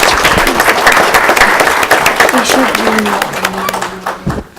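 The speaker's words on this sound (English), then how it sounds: "Let's give them one more applause." Applause fills a school board of education meeting room, many hands clapping in a loud, dense burst that gradually thins and fades, with people talking over it.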